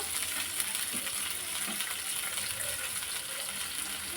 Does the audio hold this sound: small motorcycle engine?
no